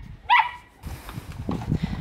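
A dog gives one sharp, close bark early, then a looser stretch of softer yelps and scuffling noise follows. No one speaks.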